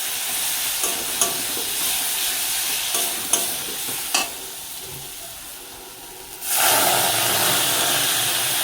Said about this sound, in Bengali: এরকম করে মশলাটা মাখিয়ে দিলাম